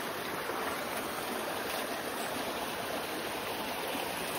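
Water from a stream at a hidden waterfall rushes in a constant, broad hiss, fairly faint and even throughout with no voices.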